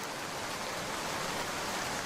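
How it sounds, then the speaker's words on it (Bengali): Steady rain falling in a Bengali cartoon scene, an even broadband hiss that holds at a constant level throughout with no voices or other distinct sounds. "এদিকে বৃষ্টি হচ্ছে"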